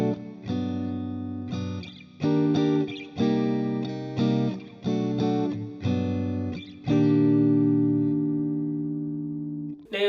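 Electric guitar strumming the rhythm part of a song in barre chords, clean and effect-processed, with several sharp rhythmic chord hits before a final long chord rings out and decays.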